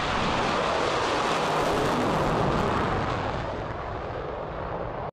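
A toy fighter jet sound plays: a loud, rushing roar that holds steady and then fades slightly before cutting off abruptly with a click.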